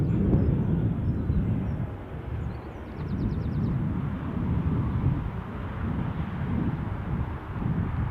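A Jet2 passenger jet at Newcastle airport, a broad low rumble that swells and eases steadily, heard at a distance with wind buffeting the microphone.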